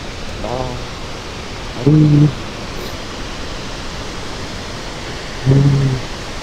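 Water rushing steadily at a hydropower dam in a mountain trekking area, a loud broadband roar throughout, with a voice speaking briefly over it three times.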